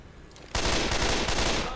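Rapid automatic gunfire in the video game Left 4 Dead 2 erupts suddenly and continues as a loud, dense burst of repeated shots.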